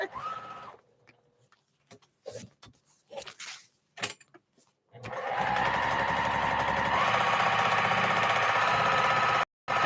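Domestic sewing machine stitching fabric crumbs into a quilt block, a steady continuous whir running for several seconds after scattered short bursts and handling clatter, close and fairly loud.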